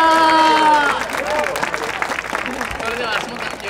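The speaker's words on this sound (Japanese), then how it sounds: "盛大な拍手をお願いします。" An audience applauds after a dance team's performance at an Urajya festival venue in Okayama, a dense patter of clapping from a crowd under a speaking voice through the opening moments.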